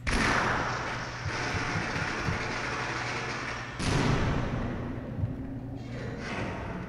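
Weapon fire in the video game Half-Life, loud booming shots with a long rumbling roar, one at the start and another burst just before the four-second mark, each decaying slowly, no talking.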